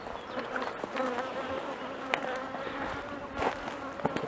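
Honeybees buzz continuously around beehives during their orientation flights, a dense close-up hum with individual bees passing near.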